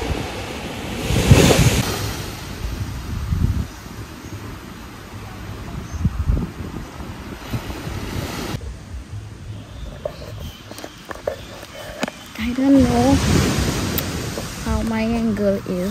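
Sea waves washing onto a beach, a steady broadband surf wash with some wind noise, swelling at the start and again near the end, with a brief voice partway through.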